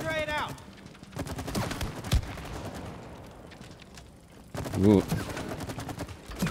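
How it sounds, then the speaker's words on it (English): Rapid video game gunfire at a shooting range target practice in It Takes Two, dense bursts of shots rattling on and off, loud and close, with a brief voice exclaiming over it. "There's a thing here where you can try out the target practice."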